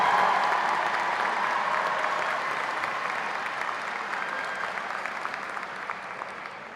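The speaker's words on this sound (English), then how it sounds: "Can we give them a big round of applause for giving credit to each and every family?" An audience at a graduation ceremony applauds the teachers: dense, sustained clapping from a large crowd, loud at first and gradually fading over several seconds, with no speech over it.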